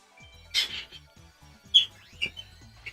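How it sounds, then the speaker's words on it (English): Small birds chirp in short, bright bursts outdoors, a few separate calls and sweeping tweets over a quiet background with soft low rumbling. "Birds are being very noisy right now."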